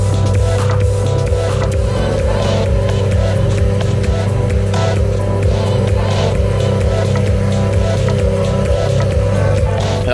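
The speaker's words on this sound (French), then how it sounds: "Ce que vous entendez c'est la Cup" A Cup race car engine running, a loud, constant droning rumble with strong low tones that holds steady throughout, close by.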